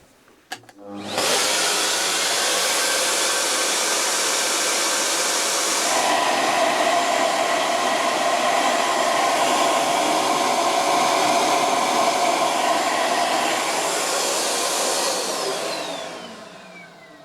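Flowbench testing the airflow of a cylinder head: a steady, loud, broadband rushing roar like a big blower, starting abruptly, its tone shifting slightly partway through, then winding down at the end.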